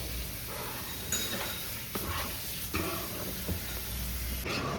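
Masala frying in oil in a pan for paneer butter masala, a steady close sizzle and hiss with occasional scrapes and knocks as a spoon stirs through it.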